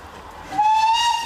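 A steam train whistle cuts in abruptly partway through and holds one loud, bright, sustained tone close by until the end.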